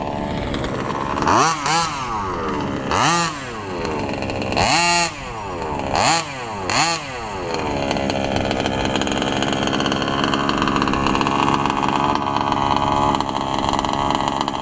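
A Losi RC car's nitro engine, fitted with a 454 Turbo head and a TLR 2093 pipe, screams close and loud, repeatedly revving up and dropping back before holding a sustained high-pitched wail at full throttle.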